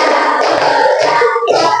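Classroom of pupils clapping a five-clap pattern, quick bursts of hand claps in close succession, loud and near, with no talk.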